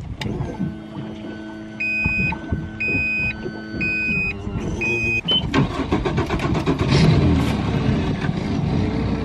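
Warning beeps chime in a short repeating pattern over a low idle, then a boat engine cranks and catches, rumbling steadily up close, in the Florida Keys.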